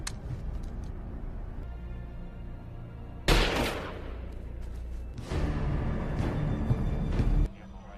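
A gunshot rings out in the horror film The Collection: sharp, loud reports with reverberant tails, separated by stretches of low, tense ambience.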